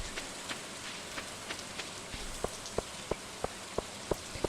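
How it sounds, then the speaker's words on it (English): Rain falls steadily in the Stardew Valley video game, a soft constant hiss with faint drips and a regular series of light ticking taps toward the end. "Just a quiet day. It's all raining."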